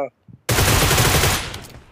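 Rapid bursts of PUBG Mobile gunfire during a 3v3 match, loud and close, following a few quiet spoken words.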